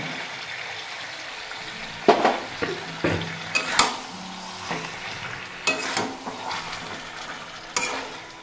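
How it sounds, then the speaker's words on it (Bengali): Chopped tomatoes go into a sizzling Sindhi chicken curry in a pan, followed by uneven scraping and stirring with a spoon, a steady frying hiss running beneath several sharp clinks and scrapes. "এখানে 2টো টমেটো আমি কুচিয়ে রেখেছি, আমি এটা এবার দিয়ে দেব।"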